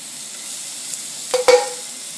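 Chopped shallots sizzle quietly in whole butter for a lemon wine butter sauce, a soft steady hiss with a couple of brief scrapes of stirring partway through, no talking.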